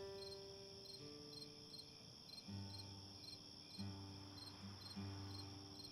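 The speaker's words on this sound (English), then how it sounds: "Maybe we need some crickets." Crickets chirp steadily as a played-in sound effect during a quiet stretch of a livestream, a soft, continuous high trill with faint lower tones underneath and no talking.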